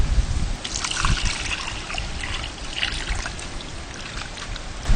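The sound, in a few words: water poured while washing chicken with turmeric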